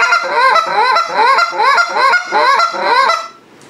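Next Level goose call fitted with red, white and blue flex guts, blown in a steady run of about eight honks with a clear goosey break, close and loud, stopping abruptly near the end.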